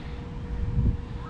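Steady low rushing wind buffeting the microphone in a chili pepper field during insecticide and herbicide spraying, swelling briefly in the middle of a short stretch.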